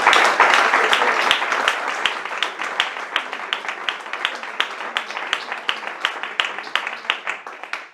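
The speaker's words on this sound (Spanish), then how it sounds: "Un fuerte aplauso para Pilar Mateo." An audience claps for a poet at a poetry event in the Centro Asturiano de Madrid, a bright burst of applause that thins gradually into scattered, fading claps.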